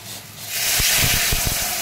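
Hot water poured into a frying pan of fried vegetables, bursting into a loud, close hiss and rush of steam with a few low bubbling pops, no voices.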